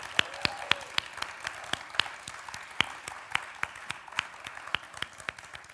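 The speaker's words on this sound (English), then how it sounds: "let's just give a round of applause to your incredible faculty" Graduation audience applauding the faculty at a university theatre and dance MFA ceremony, a sparse round of distinct individual claps spread through the room, steady and moderately loud throughout.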